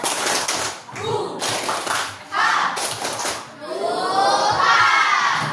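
A group of children in a classroom performs the 'tepuk semangat' clapping chant, chanted voices mixed with rhythmic claps and excited shouting, ending in a louder burst of cheering.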